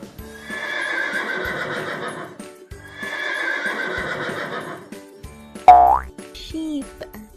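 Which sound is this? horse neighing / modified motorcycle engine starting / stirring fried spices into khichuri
horse neighing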